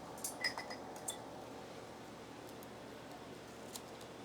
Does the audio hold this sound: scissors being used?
yes